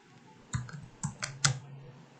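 Python code is typed on a computer keyboard in a handful of quiet, separate key clicks spaced irregularly across a short, otherwise hushed moment.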